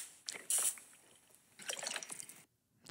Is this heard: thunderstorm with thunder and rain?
no